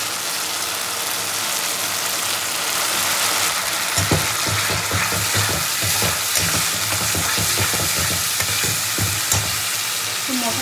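Masala spices sizzle steadily in oil in a pan for a chicken curry, a dense frying hiss with brisk stirring scrapes starting partway through, close and fairly loud with no talk.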